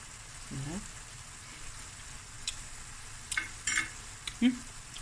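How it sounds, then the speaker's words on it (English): Onions frying in a pot for a sausage bredie give a faint, steady sizzling hiss, with a few soft clicks and scrapes of stirring near the start and end. "Onions have cooked down nicely."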